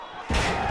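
A wrestler's body slam in WWE 2K18, a Civic Center match of Gorgeous Jimmy Garvin against Sam Houston: a single sudden heavy thud on the ring that rolls into broad crowd-like noise.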